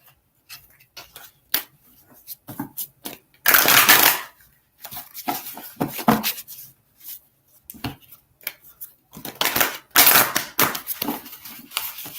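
Tarot cards being shuffled by hand, bursts of rapid riffling and soft slapping interspersed with scattered taps and pauses, close and clear.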